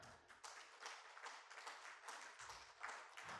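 Scattered clapping from a small audience at a book launch event, brisk and moderately faint, rising and falling in short bursts without any voices.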